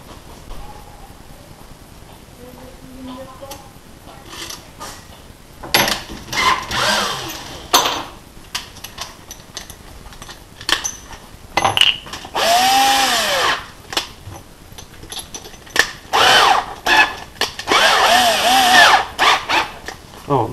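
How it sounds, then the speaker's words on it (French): An electric drill whines in several bursts boring into a plastic brake fluid reservoir cap, starting and stopping, with clattering and rustling handling noises in between. "je vais faire ça avec une perceuse"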